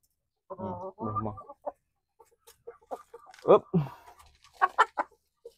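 Chickens on a small family home farm cluck in a few short bursts near the start, followed by scattered quieter clucks and calls from the flock at close range.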